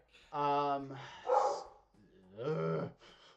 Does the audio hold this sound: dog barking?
yes